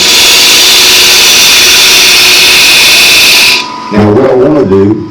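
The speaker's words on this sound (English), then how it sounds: "This is a bow gouge I'm using, okay?" A wood lathe spins as a bowl gouge cuts the wood, making a loud, steady high-pitched hiss of shaving that stops abruptly and is followed by someone talking.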